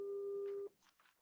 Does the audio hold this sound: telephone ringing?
yes